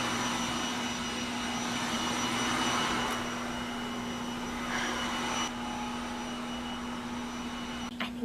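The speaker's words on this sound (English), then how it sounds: "I can't even take myself seriously right now because of the vacuum." A vacuum cleaner drones steadily in the background with a constant whine and airy rush, its pitch dipping slightly now and then, with no voices over it.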